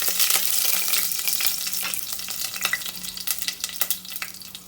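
Bay leaf, cinnamon, clove and curry leaves hitting hot oil for a Kumbakonam lentil stew, a bright loud sizzle that settles into crackling and stirring scrapes, close up with no talking.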